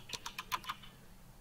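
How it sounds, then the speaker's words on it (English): Rapid clicks from a computer keyboard being typed on very fast during a gaming session: a quick burst of sharp, close keystrokes that stops after about a second, leaving quiet room hiss with no voices. "Super fast typing from Stub."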